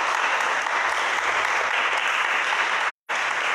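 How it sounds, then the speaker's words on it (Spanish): A congregation at a church service claps together in sustained, dense applause, loud and steady throughout with a brief cut near the end, no speech over it. "Dale un aplauso a Cristo"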